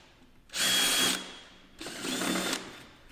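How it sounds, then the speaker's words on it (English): A drill bit run back into pre-drilled holes in a timber beam for post-and-beam joinery, cleaning out small burrs: two loud bursts of high-pitched drilling, the second slightly softer, with no talk. "I use a drill bit."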